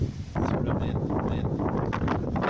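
Strong wind buffets the microphone at a harbour in Iceland, a dense, continuous roar of gusts across the whole short stretch with no speech.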